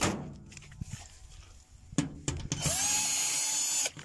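Power drill backing a screw out of the front panel of an LG front-load washer, a few knocks and handling clatter followed by a loud, sustained whirring run that stops abruptly.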